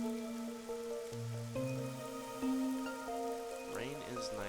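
Rain falls in the video game Master Detective Archives: Rain Code as a constant soft patter beneath sustained, tonal game music with shifting notes.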